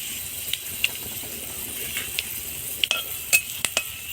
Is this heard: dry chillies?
yes